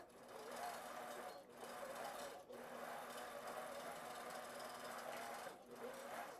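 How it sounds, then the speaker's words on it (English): A computerized long arm quilting machine stitches a design into a quilt block, its steady rapid needle whir running continuously with a few brief dips and light voice in the background. "So you see, it's putting in my design just in that block."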